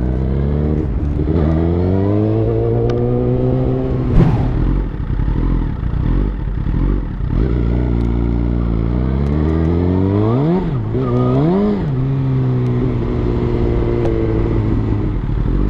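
A car drifting with a revving engine, loud and steady throughout, its pitch climbing and falling in sweeping rises near the end, with a sharp knock partway through.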